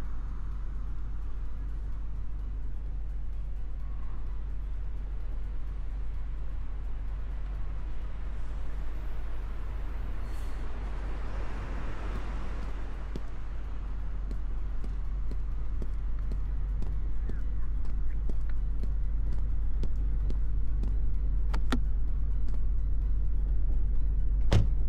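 Car driving in a police video game, a steady low engine drone running continuously under faint clicks and short in-game effects, with no talking.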